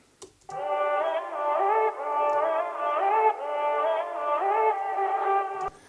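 A reggaeton music loop of bright, synth-like melodic tones in a repeating pattern plays alone at a steady, fairly loud level. No clear drum beat stands out.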